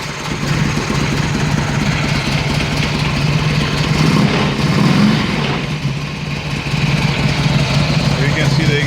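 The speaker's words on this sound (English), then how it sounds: "So now finally I can show you this bike running." A Harley-Davidson motorcycle converted from fuel injection to a carburetor idles with a steady low engine rumble throughout, while someone talks over it.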